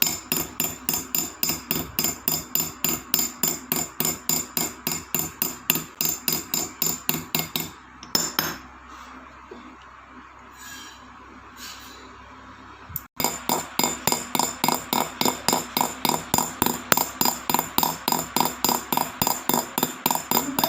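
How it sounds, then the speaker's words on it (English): Jeweller's hammer tapping a steel pin against metal to push it over cubic zirconia stones during stone setting: a fast, steady run of sharp metallic taps, close and loud, pausing for a few seconds in the middle before resuming at the same rhythm. "how I beat a pin on the metal to make the metal move towards the stones"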